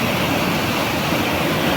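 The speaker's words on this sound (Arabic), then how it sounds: "انت بتحس ان انت وانت واقف كده انت في شلالات" Loud, steady roar of water rushing over the historic Zifta weir, a dense, unbroken wash of falling water heard close up.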